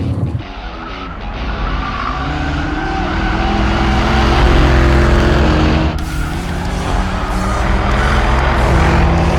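Jeep Trackhawk SUV with a loud, sustained engine roar and tire noise, a steady heavy drone that swells under hard acceleration, close and dominant with no talking.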